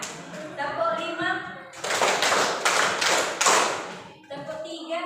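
Group hand clapping in a counted rhythm exercise, a burst of several sharp claps in quick succession between spoken instructions, with talking before and after.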